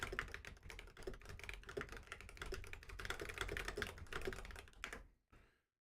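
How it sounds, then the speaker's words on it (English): Rapid computer keyboard typing, a dense run of quick close clicks and key taps that stops abruptly near the end. "He's typing to me."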